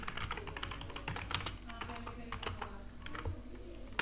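Code typed on a computer keyboard, a quick steady run of close, crisp key clicks with brief pauses between bursts.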